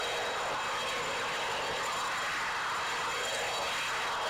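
Steady, droning helicopter engine and rotor noise from Microsoft Flight Simulator X, a continuous broad hiss with a constant hum and no pauses, heard alone.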